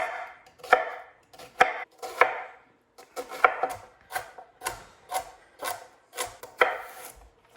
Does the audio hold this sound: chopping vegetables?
yes